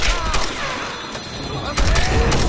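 Assault rifle gunfire in the Tomb Raider video game: loud, close bursts of rapid shots with booming impacts, easing briefly before another heavy burst, amid chaotic combat noise.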